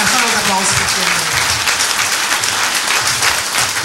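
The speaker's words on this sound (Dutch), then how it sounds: "Een groot applaus voor Kimberly." Audience applause for a person named Kimberly at an event, a steady dense wash of clapping that fills the whole moment at close range and high volume, with a few faint voices mixed underneath.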